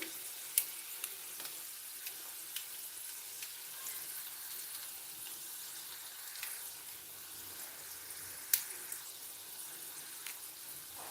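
Dry red chillies fry quietly in hot oil with a faint, steady sizzle and a few soft pops and crackles scattered through it, heard close but at low level.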